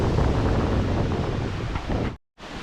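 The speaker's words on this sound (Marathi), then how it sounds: "इथे खूप उंचावरनं वॉटरफॉल पडतो आहे, हे बघा इकडे. आणि एकदम जोरदार पाणी येतोय बघा." A monsoon waterfall at Raghuveer Ghat near Khed in the Konkan plunges down a black basalt cliff, giving a loud, steady broadband roar of rushing water with wind buffeting the microphone, then a sudden brief dropout near the end.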